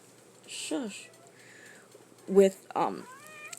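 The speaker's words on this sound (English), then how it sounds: "my cat's right here, and she's probably meowing. You can probably hear her." A cat meows a few times up close, short plaintive cries separated by brief pauses, with no talking underneath.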